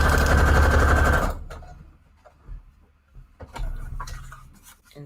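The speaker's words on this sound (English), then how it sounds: "Just gotta sew this here one moment." A sewing machine stitches through scrap paper for embellished guest checks, a loud dense whir for about a second that stops abruptly, followed by quieter handling clicks and taps.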